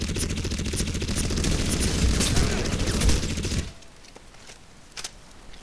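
Sustained automatic gunfire in the Crysis game, a loud, dense stream of rapid shots that keeps going for over three seconds and then cuts off abruptly, leaving a quieter background with a single later pop.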